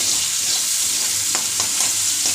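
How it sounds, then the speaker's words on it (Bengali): Spices fry and get stirred in a pan for a vegetarian potol dolma, giving a loud, continuous sizzle close by, with a few light scrapes or taps of the stirring spoon. "মশলাগুলো ভাজা ভাজা করছি"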